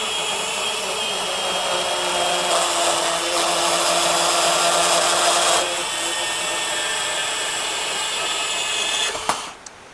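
A Flex 24-volt brushless compact band saw cuts through 2-inch angle iron with a steady, close motor whine and a grinding blade for about nine seconds, then winds down and ends with a short clunk.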